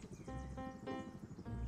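A video game horse neighs and whinnies with a few soft hoof clops, brief and fairly close.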